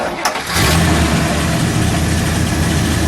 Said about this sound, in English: We'll let it idle, and we'll give it a little rev.